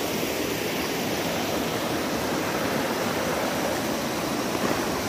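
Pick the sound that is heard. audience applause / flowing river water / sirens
flowing river water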